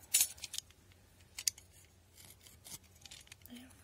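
Scissors snip knitting yarn on a hand-knit men's sweater, two sharp metallic cuts close by with light handling noise between them in a quiet room.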